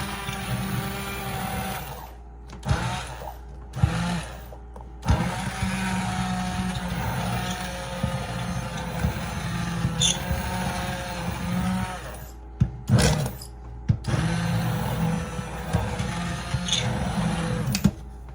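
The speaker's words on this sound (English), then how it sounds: "I love this immersion blender because it's longer and gives me some arm length." An immersion blender whirs through rhubarb butter in a pot, a steady motor drone that cuts off and restarts several times, with short pauses and clunks between bursts, close and fairly loud.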